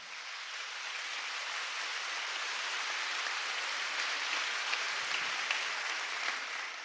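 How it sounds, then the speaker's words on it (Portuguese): A church congregation claps together during a Catholic sermon, a dense, steady wash of hand claps sustained evenly throughout, sounding like broad hissing noise with no voices standing out. "pode bater palmas"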